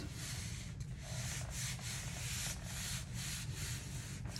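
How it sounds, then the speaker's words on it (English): A hand smooths and rubs across a gel printing plate, making a steady, close, continuous rubbing hiss with soft rhythmic swipes, no voices. "making sure to rub all over that gel printing plate"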